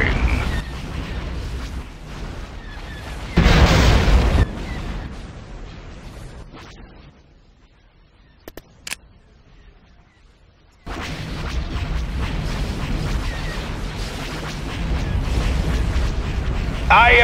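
Space-battle weapon fire and explosions from Star Wars: Empire at War: Forces of Corruption at the Battle of Geonosis, loud booming bursts and rumbling barrages up close, dropping to near silence mid-way with a few sharp pops before the heavy fire resumes.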